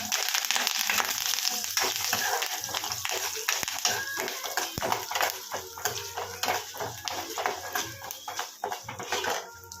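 Curry leaves and coriander hitting hot oil in a village-style tamarind rice preparation, a close crackling sizzle mixed with clattering pan and utensil scrapes, fading into uneven bursts.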